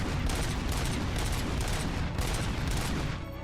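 Dense, continuous gunfire from RoboCop: Rogue City, with rapid overlapping shots and booms forming a loud, sustained barrage with no talking.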